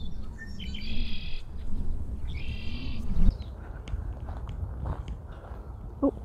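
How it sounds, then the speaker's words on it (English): Birds call from a tree in short chirping bursts, a few clear phrases early on and then scattered sparser notes over a low outdoor background. "Birds everywhere."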